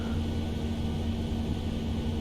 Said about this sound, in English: oh so familiar tractor engine sound